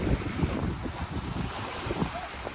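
Steady wind rushes over a sailboat at sea, buffeting the microphone with gusts, mixed with waves and water splashing against the hull.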